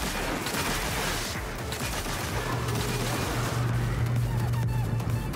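A Thunderlord heavy machine gun in Destiny 2 fires continuously, a dense, loud rattle of rapid shots with booming low impacts and a sustained hum across the whole stretch, no voices.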